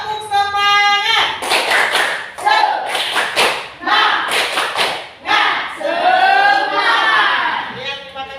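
A class of schoolchildren doing a rhythmic spirit clap with their teacher, bursts of clapping and thumps in patterned rhythm mixed with shouted voices, loud and close.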